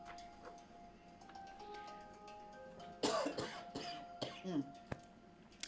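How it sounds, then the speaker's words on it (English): A couple of raspy coughs break out partway through, fairly close, over a quiet room with a steady faint hum and light ticking. "there's a cough out of nowhere"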